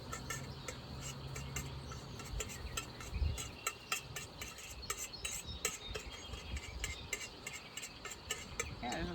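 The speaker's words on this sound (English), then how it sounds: "I'm gonna mix it with a fork here." A fork scraping and clinking steadily against a bowl while mixing food with oil, quiet rapid ticking strokes repeating throughout, no voices.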